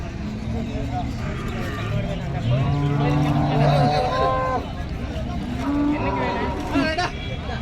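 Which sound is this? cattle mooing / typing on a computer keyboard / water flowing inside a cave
cattle mooing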